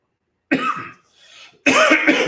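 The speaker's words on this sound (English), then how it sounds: "we're gonna do a little coughing in here" A man coughs twice, harsh and close, with a brief quiet wheezy breath between the two bursts.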